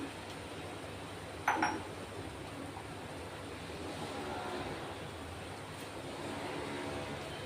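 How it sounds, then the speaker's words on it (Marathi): Water comes to a boil in a pot before wheat-flour vermicelli goes in, giving a steady, soft, rushing hiss that runs throughout, with one brief sharp click near the start. "हे बघा, पाणी मस्त उकळतंय, पाहू शकता तुम्ही"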